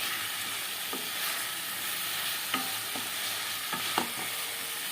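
Tangra fish curry (Tangra Macher Jhal) with spice paste and a little water sautéing in a pan, a steady close sizzle broken by a few sharp scrapes of a spatula stirring through the masala.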